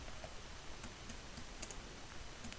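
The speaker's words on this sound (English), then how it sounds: "Now on this sheet I want to type a short budget." Computer keyboard typing, faint rapid key clicks in short bursts over a low room hiss, close but quiet, with no voice.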